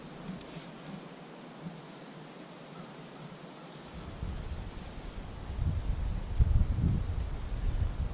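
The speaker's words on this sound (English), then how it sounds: "it's a little windy out" Cool autumn wind blows outdoors. It rushes as a soft, steady noise that swells into stronger buffeting gusts on the microphone toward the end.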